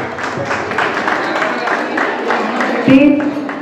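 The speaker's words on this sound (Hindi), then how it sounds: "आप सभी अपने लिए जोरदार तालियां बजाएं" An audience at a Marwari Yuva Manch Janmashtami gathering in Solapur breaks into loud, sustained clapping. The applause fills the room throughout, with a voice speaking over it.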